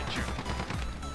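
Gunfire in Call of Duty Modern Warfare, a quick loud burst of shots packed into about a second of dense game audio.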